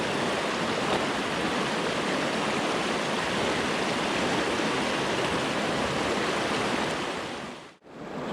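Mountain stream water rushes loudly over rocks as a hiker wades across faster, deeper water on a trail crossing, a dense continuous roar up close that briefly dips near the end.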